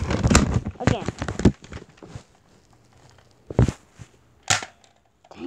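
Video-game gunfire crackles in a rapid burst of sharp, punchy shots, then two more isolated single shots follow after a quieter stretch.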